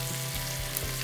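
Venison meatballs browning in a hot pan give a steady, close sizzle and fry, with a continuous crackle and no talking.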